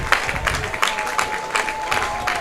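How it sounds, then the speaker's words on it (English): Sharp, hard hand claps from a player at first base during a Lane Tech vs. Taft high school baseball game, about eight spaced slaps over a steady outdoor crowd and field murmur. "Cap is very excited at first, clapping his hands very hard"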